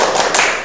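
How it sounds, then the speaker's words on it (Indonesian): A class of students performs the 'tepuk semangat' clap routine in a classroom lesson, a short burst of dense, fairly loud group clapping with overlapping slaps. "saya akan coba pakai tepuk semangat dulu ya"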